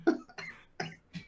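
A person coughs four times in quick succession, close and fairly loud, with short dry bursts and brief pauses between them.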